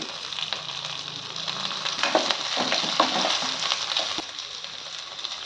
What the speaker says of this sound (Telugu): ఉల్లిపాయలు చక్కగా కలర్ మారాయి కొంచెం మగ్గించుకోవాలి ఉల్లిపాయలని